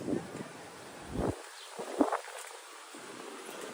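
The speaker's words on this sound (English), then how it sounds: "we've had the wind at our back" Steady outdoor wind blowing across the microphone during an urban walk from Jersey City toward Brooklyn, a continuous broadband rush with a few gustier bumps and faint rustling, no talking.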